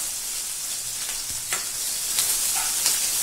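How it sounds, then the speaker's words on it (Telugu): Mustard seeds spluttering in hot oil for a tempering while cooking egg curry, a steady sizzle broken by scattered sharp crackling pops, close and moderately loud, with no talking. "తాలింపు వేగింది, చిటపట్లాడుతుంది. ఆవాలు అట్లా చిటపట్లాడాలండి,"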